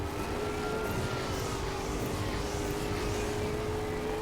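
Helicopter in the Lego Batman video game on PS3, a steady whirring drone with a faint whine, held evenly throughout with no talk.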